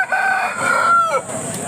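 A country rooster crows once at a weekly chicken market in Akkirampura, Tumkur, a loud, close, drawn-out call with a rising and falling pitch.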